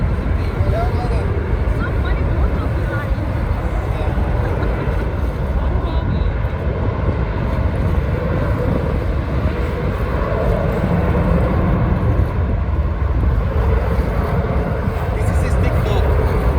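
A Sunclass Airlines airliner takes off from Aruba with loud, continuous jet engine roar heard from nearby, steady throughout.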